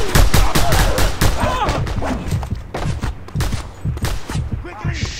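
Enemy assault rifles in Just Cause 2 fire in rapid, loud bursts of close gunfire, with brief gaps and a voice speaking over parts of the shooting.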